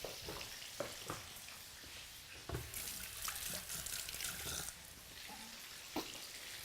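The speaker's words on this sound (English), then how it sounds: "I'm going to go and wash my hands." Running tap water splashing and trickling steadily over hands at a kitchen sink, with a few sharper splashes and knocks, close and fairly quiet throughout with no talking.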